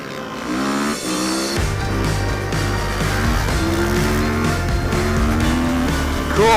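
A Kawasaki KX250F dirt bike racing on an ice course, launching with a wheelie: a loud, close engine revving and climbing through gears with a steady buzzing drone.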